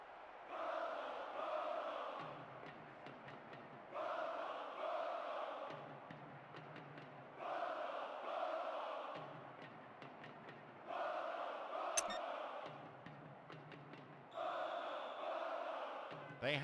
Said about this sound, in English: The capacity crowd getting behind their team.